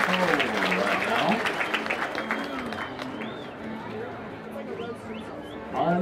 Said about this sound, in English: Would you give her a consolation round of applause?